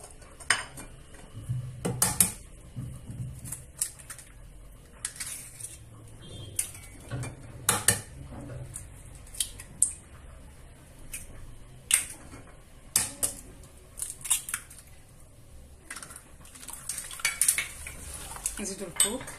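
Batter with eggs being mixed in a bowl, quiet background broken by repeated sharp clinks and taps of a utensil against the bowl at an uneven rhythm, with no talking.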